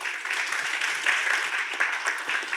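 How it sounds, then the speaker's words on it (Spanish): Steady applause from an audience greeting a speaker at a talk on Peruvian politics, a dense, even wash of clapping held for the whole stretch with no voices over it. "Fuerte aplauso."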